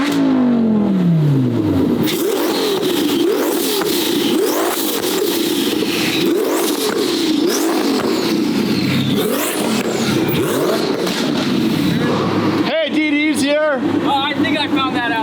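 A twin-turbo Lamborghini fitted with a billet transmission revs hard, with a falling rev at the start and sharp rising blips near the end, under ongoing chatter from people nearby.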